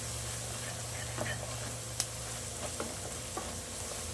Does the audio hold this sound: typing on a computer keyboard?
no